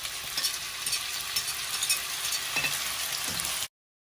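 Onions frying in a karahi, a steady close sizzle and crackle with occasional stirring scrapes, running continuously until an abrupt cutoff near the end.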